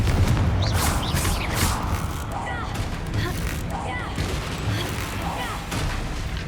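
Confringo fire spell blasting in Hogwarts Legacy, a battle against a troll, with loud booming bursts and crashes over busy combat noise throughout.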